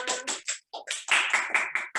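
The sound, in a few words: audience applause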